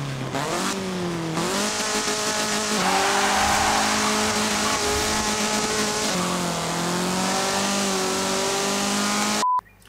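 A car in the racing video game Forza Horizon 4 driving around a block, engine loud and close with rising and falling revs as it accelerates and shifts, briefly cutting out at the end.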